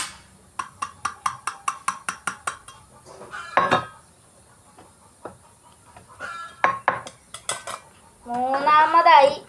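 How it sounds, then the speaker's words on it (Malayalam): A spoon stirs salt, Kashmiri chilli powder and turmeric into okra fry in a metal pan, with a quick run of about ten sharp clinks, then scattered scrapes and a final busy burst of stirring. "ഇനി കുറച്ച് നേരം ഇളക്കി കൊടുക്കാം."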